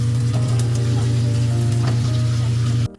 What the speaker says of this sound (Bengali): সব কিছু ভালো করে ভাজা হয়ে গেলে ম্যারিনেট করা চিকেনটা দিয়ে দিলাম। এবার এটা ভালো করে কষতে হবে।